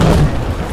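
A missile explodes in the Battlefield 4 video game, a single deep, loud boom that fills the short moment.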